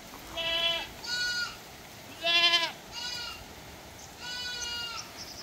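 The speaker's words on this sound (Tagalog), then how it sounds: "Yan po yung favorite spot nila na tambayan." Goats bleat at their favorite outdoor hangout spot where they eat coconut leaves. Four clear, fairly loud, wavering calls come one after another over a quiet background.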